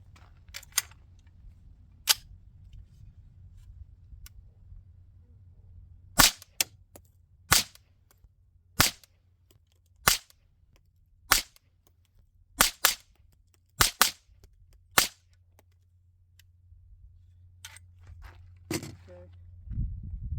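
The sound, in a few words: gunshots from DBX57 rifle with Huxwrx Flow .22 Ti suppressor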